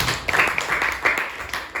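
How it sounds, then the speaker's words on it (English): Classroom of students clapping for themselves during a social studies lesson, a short burst of scattered hand claps close by with uneven rhythm. "give yourself a round of applause"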